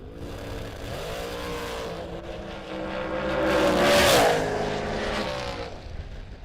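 A dragster roars down a drag strip at an outdoor race meet, its engine note rising and swelling to a loud peak midway before fading, heard from trackside without talk.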